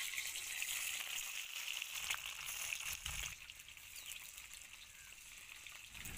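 Large pieces of paneer fry in hot oil in a pan, giving off a steady, soft sizzling hiss with faint crackles that carry on throughout, with no talking.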